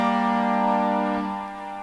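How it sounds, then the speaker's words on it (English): Serum synthesizer pad preset playing a sustained, warm, harmonically rich chord that holds steadily and then thins slightly, alone and moderately loud. "So here I have a pad preset which I've loaded."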